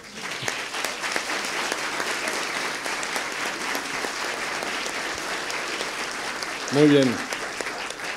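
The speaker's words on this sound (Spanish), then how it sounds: "Pues otro aplauso, por favor." Sustained applause from a crowd at an architecture award ceremony, a dense steady wash of clapping throughout, with a brief spoken remark near the end.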